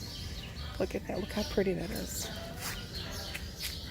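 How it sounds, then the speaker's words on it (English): Small birds chirp faintly outdoors at a garden shop, with thin high tweets behind someone talking close to the microphone. "you can hear the little birdies in the background"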